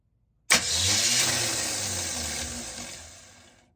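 A 1978 Chevy Nova engine cranks briefly and fires up on a new starter, catching quickly into a loud, steady running rumble that fades slightly toward the end, with no talking.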